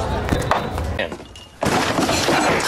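Glass shattering at a mall ball-throwing game, sharp crashes and thuds near the start followed by a louder burst of breaking, with excited voices talking around it.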